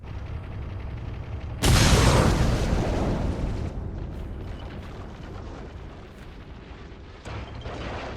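A bomb fired at a vault in the Ace Combat 6 video game bursts into one huge deep blast whose rumble slowly fades over several seconds, followed by a fainter second thud.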